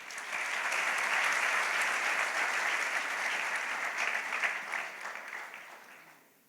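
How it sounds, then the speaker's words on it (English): An audience at a TiEcon Mumbai startup event applauds the founders with a full, even burst of clapping that swells early, holds, then gradually tapers and fades out at the end. "So give them a big applause."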